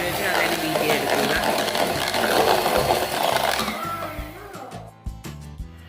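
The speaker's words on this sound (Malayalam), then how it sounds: "നമ്മുടെ ഇലക്ട്രിക് ബീറ്റർ വെച്ച് നന്നായിട്ട് ബീറ്റ് ചെയ്തെടുക്കുക." Electric hand beater whirring steadily through cake batter made with sunflower oil for a butterscotch cake, loud and continuous, then cutting out into a few clatters near the end.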